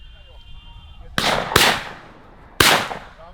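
Three shotgun blasts ring out while hunting birds in the Jamaican bush: two sharp reports close together, then a third after a short pause. Each is loud and near, with a decaying tail, and faint chatter sits underneath.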